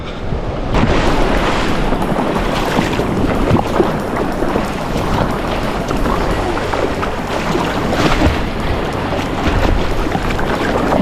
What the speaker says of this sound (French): Il fait beau, on a des belles petites vagues.